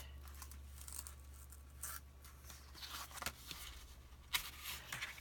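A piece of burnished paper is peeled off a handmade photo folio album, giving quiet, intermittent tearing and crinkling sounds with a few sharper rips near the end.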